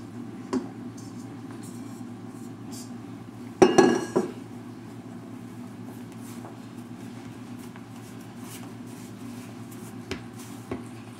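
Metal pie pan clatters once in a short handling burst around the middle while pie dough is pressed in by hand; quiet kitchen background otherwise, with a few faint small knocks near the end.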